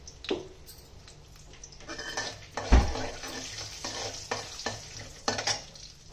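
Mustard and cumin seeds fry with lentils in hot oil, giving a moderate crackling sizzle broken by scraping spatula strokes and a few metallic clinks against the pan.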